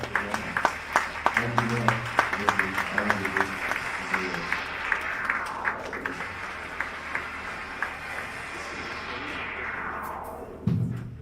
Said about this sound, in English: With standing ovation and clap, please help me